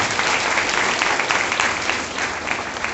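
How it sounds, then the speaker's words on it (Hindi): Sustained applause from an audience at a network-marketing motivational talk, dense steady clapping filling the whole stretch without a break. "ताली बजाइए दोस्तों, ताली बजाइए"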